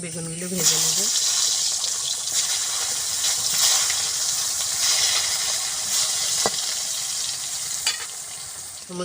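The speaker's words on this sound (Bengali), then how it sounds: "বাদ বাকি বেগুনগুলো ভেজে নেব।" Brinjal (eggplant) pieces sizzling in hot oil as khichuri is prepared, a steady loud frying hiss throughout with occasional stirring clinks, no speech.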